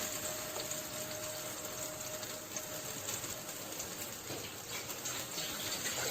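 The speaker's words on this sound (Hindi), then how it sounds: "जग को खंगाल के इसमें थोड़ा सा पानी और शामिल कर देते हैं।" Water sloshing and pouring while a jug is rinsed and its water added to a cooking pot of mutton trotters and masala, a continuous soft gush at moderate level with no talk.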